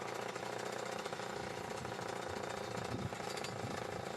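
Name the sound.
Atlas Copco Cobra Combi gas-powered breaker drilling rock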